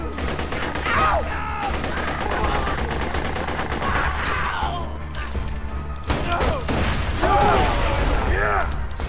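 Shotgun gunfire in Borderlands 2 sounds as loud, fast blasts and thumps in constant combat, layered with game music and effects, while someone talks over the action.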